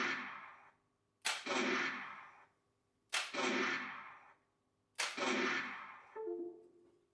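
Three sharp shots from a Retro Shooter 3 Reaper light gun during a PC calibration shoot test, evenly spaced about two seconds apart, each a crisp crack followed by a fading burst, with quiet gaps between.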